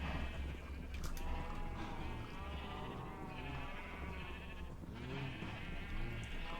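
Sheep in a Minecraft world bleat repeatedly in short wavering calls over a low ambient game background, moderately close with no talking.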